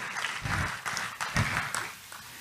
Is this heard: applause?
yes